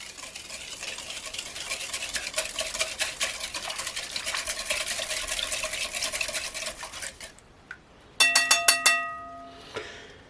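A spoon works 8 grams of cinnamon into a mixture in a bowl, making steady, close scraping strokes for several seconds, then a pause and a few sharp clinks of the utensil against the bowl.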